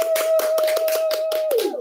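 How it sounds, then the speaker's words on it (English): Several quick, rhythmic hand claps, close and fairly loud, with a steady high tone sounding underneath. "So give a round of applause."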